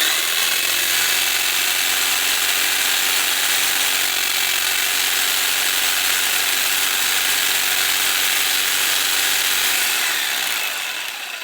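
A jigsaw fitted with a homemade paint stirrer runs continuously in a can of paint, a loud steady mechanical buzz and churning rattle for about ten seconds before the motor winds down.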